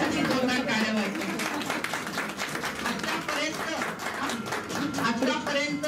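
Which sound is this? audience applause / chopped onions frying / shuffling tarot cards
audience applause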